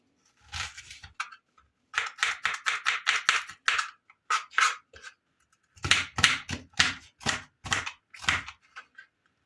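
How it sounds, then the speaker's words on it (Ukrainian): A knife finely chops onion rapidly on a board in quick bursts of close, crisp taps, pausing briefly between runs. "цибульку дрібно-дрібно покришити."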